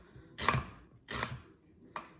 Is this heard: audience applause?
no